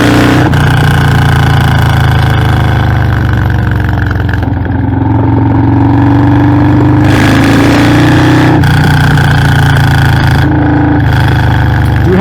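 A Harley-Davidson FXLRS with a Stage-tuned Milwaukee-Eight 117 engine rumbles loud and near on a ride, a deep steady exhaust drone with shifts in pitch as it eases off and pulls again, and wind noise rises and falls above it.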